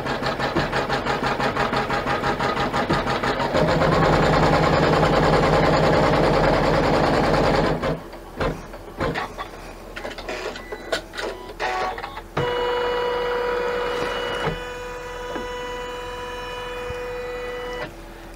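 An embroidery machine stitches a basting line with a rapid, continuous mechanical chatter and whir, then pauses into stuttering bursts before resuming a steady buzz, loud and close without talk.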